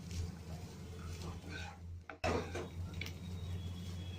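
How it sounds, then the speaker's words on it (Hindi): Masala fried rice being stirred in a pan, with a spoon clinking and scraping against the metal in a few close, soft strokes, and a brief louder knock partway through. "मैं इसे बीच बीच में चला के कुछ सेकंड और खोल के कुक कर ले रही हूँ।"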